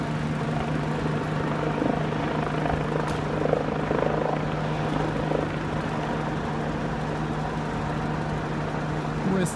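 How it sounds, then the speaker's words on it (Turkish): A police helicopter's steady rotor drone hovers overhead above Dolmabahçe, Istanbul, after an explosion, a constant low thrum filling the background with little change throughout. "Aşağıda hala polis helikopteri Dolmabahçe üzerinde asılı."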